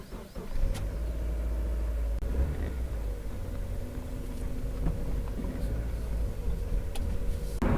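A Mazda MX5 1.8 engine hums steadily at a low pitch from start to finish while driving, with faint road rumble and occasional small clicks inside the cabin.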